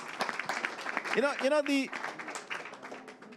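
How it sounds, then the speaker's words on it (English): Light, scattered applause from a conference audience at a panel session on water security, fairly faint and soft, with someone speaking over the clapping partway through. "A round of applause for him."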